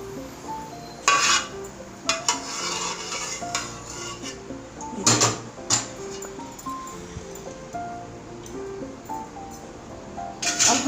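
Browned onions scooped out of a home cooking pot for moong dal khichdi, with scattered metallic clinks and scrapes of a spoon against the pot over a quiet background, a few sharper knocks standing out.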